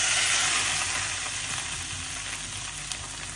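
Fish sizzles in a small amount of oil in a pan, a steady close hiss of frying that fades slightly over a few seconds, with no talking.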